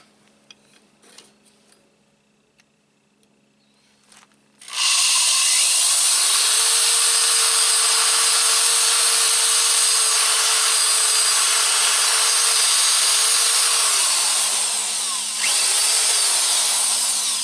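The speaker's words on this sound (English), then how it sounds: "I'm going to use my Dremel tool and gouge out the hole so I can fit the knife in" A Dremel rotary tool starts up and runs at a steady high whine as it gouges a hole in a knife handle, loud and close for over ten seconds after a quiet start.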